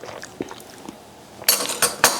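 A clean spoon clinking against a glass or pitcher while tasting homemade peach lemonade: scattered soft taps at first, then a brighter run of sharp metallic clinks near the end, close and alone with no talking.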